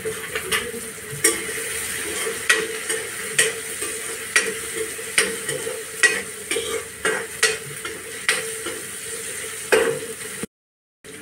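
Dry bay prawns and brinjal fry in a pan as turmeric goes in, with a steady sizzle broken by regular scrapes of a spoon stirring, no voices.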